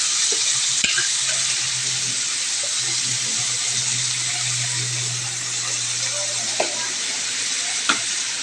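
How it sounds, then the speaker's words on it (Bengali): Taro leaves (kochu shak) cook in a pan on a home stove, giving a steady, close hiss and sizzle with a faint low hum underneath and a few sharp clinks of a utensil. "কচু শাকটা এখন আমি চাপিয়ে দিলাম"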